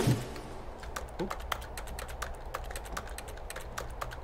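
Rapid keyboard typing from the video game The Stanley Parable, a steady run of sharp, close key clicks over a low ambient hum, with no talking.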